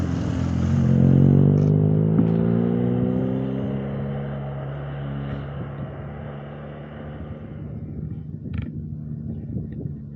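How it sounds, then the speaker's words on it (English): A vehicle with a boxer engine on the Stelvio Pass road near Bormio drives past, its low throbbing growl rising as it nears and then fading away into the background as it leaves. "The typical boxer engine sound."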